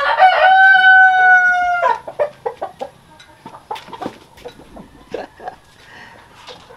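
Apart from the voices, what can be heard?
free-range chickens clucking, Siam crossbreed with Rhode Island rooster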